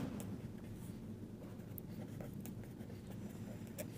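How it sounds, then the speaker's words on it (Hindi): Equations are written by hand, producing faint, continuous scratchy strokes that rise and fall softly against a low background hum. "पहले मैं एक दफ़ा इक्वेशंस लिख देता हूँ यहाँ पे।"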